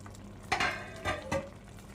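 Eggplant in a pan, seasoned with a spoonful of spice, cooks with a faint sizzle while a utensil stirs it in three short scraping bursts.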